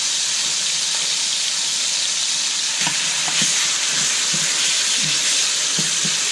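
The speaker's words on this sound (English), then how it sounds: "And now I'm going to go ahead and add the other steak." Steak dropped into a hot pan beside caramelized onions gives a steady, loud broadband sizzle with occasional sharper crackles and pops as the meat settles, close and continuous with no talking.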